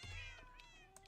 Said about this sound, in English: Then I realized we will have cat sounds.